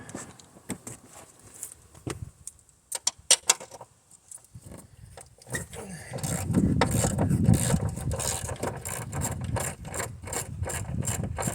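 Wrench work loosening a strut bolt on a 2004 Saturn Ion during front strut replacement: scattered metallic clicks and ratchet taps at first, then a denser grinding, rasping run of turning and rubbing noises, close by, with no talk.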